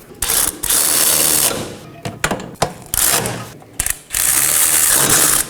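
A ratchet wrench snugs down rear knuckle bolts on a 2018-2024 Chevrolet Equinox in several loud, close bursts of rapid clicking, separated by short pauses and clunks.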